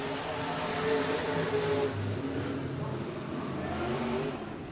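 A B-mod race car engine drones steadily through a hot lap session at a dirt oval, the continuous roar holding fairly loud with slight rises and falls as the car circles.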